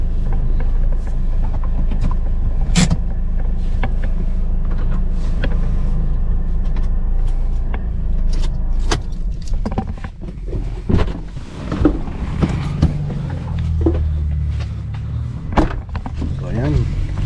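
A car pulls up and parks at a construction site in Villasis, Pangasinan. Its engine rumbles low and steady while someone talks over it, and a few clunks and knocks follow as it settles.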